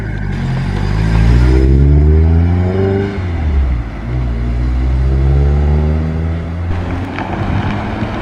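A Chevrolet Nova pulls away from a classic and sports car meet with a loud, close engine note. The pitch climbs through two rising gear pulls, and wind buffets the microphone.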